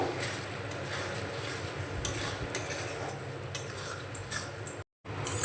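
A spoon stirs cornflour slurry into semolina manchurian in a pan, giving steady scraping and clinking over a soft sizzle, with a brief silent gap near the end.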